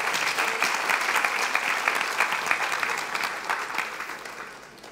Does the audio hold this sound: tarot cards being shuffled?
no